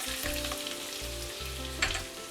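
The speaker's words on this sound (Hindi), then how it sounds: "तो यहाँ मैं 2 चम्मच अदरक डालूंगी।" Finely chopped ginger dropped into a hot pan for a spicy chicken bhuna masala sizzles and fries steadily, close and continuous, with a brief stirring scrape near the end.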